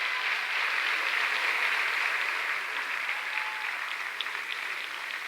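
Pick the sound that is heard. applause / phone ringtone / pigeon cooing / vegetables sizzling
applause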